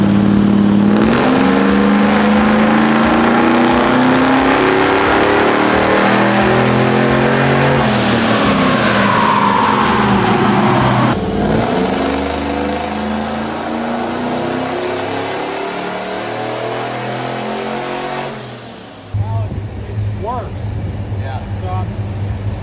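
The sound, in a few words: supercharged LS truck engine revving on dyno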